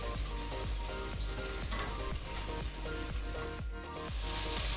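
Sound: pointed gourd (potol) frying in oil for fish curry

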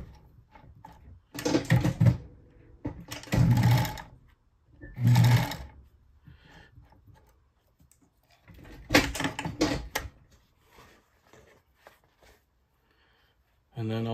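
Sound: Bonis fur sewing machine sewing beaver fur gauntlets

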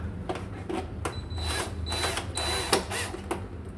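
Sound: power tool removing nuts under water filter base

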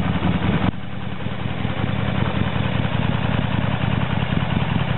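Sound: 1997 Harley Davidson 1200 Sportster motorcycle engine idling

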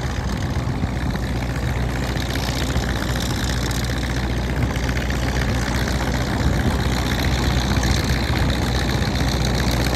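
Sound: Hino V8 F24 380 hp engine of a soil tiller truck idling

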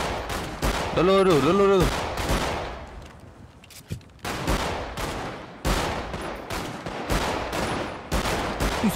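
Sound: gunfire in the video game GTA 5

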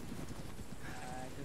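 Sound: horse hooves clip-clopping in video game Arma 3

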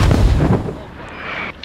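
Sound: incoming mortar fire in a video game

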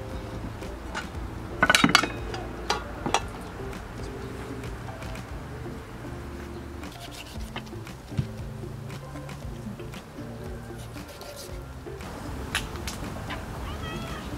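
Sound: cat meowing, wanting meat

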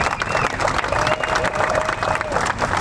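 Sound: golf crowd round of applause

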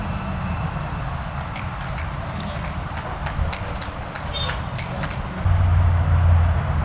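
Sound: train arriving at station

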